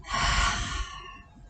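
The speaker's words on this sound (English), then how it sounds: "Release the breath through the mouth." Breath released through the mouth after holding during an uddiyana bandha breathing exercise, a single close, airy exhale that rushes out then tapers off over about a second.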